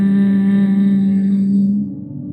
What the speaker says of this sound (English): start making a humming sound, a bee sound like this.